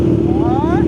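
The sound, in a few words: motorcycle passing on San Juanico Bridge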